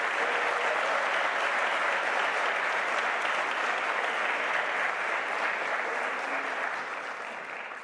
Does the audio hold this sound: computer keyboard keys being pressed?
no